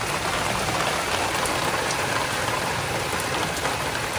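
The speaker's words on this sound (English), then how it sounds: "Saturday evening's weather. The rain came on at 6:30." Heavy rain pouring steadily on a June evening, a dense, even hiss of drops on surfaces with no breaks, close and constant throughout.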